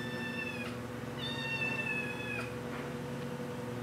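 A cat at a humane society animal shelter meows twice in long, clear, drawn-out calls, fairly close, with a faint third cry near the end against a steady low background hum.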